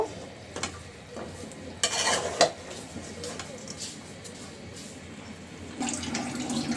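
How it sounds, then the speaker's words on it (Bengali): Bottle gourd pieces are stirred with spices in a pan, with repeated spoon scrapes and clacks over a soft background sizzle, the strokes uneven and close. "তো লাউগুলো মশলার সঙ্গে আমি খুব ভালোভাবে মিশিয়ে নিব"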